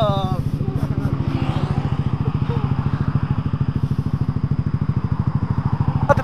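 A Honda Vario motorcycle engine runs with a steady, rapid pulsing throb while riding at night, close and fairly loud, with a voice speaking briefly over it.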